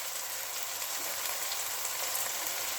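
Chilies sizzling and frying in a hot pan for masala eggs, a steady dense crackling hiss that holds evenly throughout with no talking.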